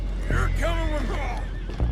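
A horse lets out a loud, close neigh in Red Dead Redemption 2, its whinny rising and wavering before a soft snort near the end.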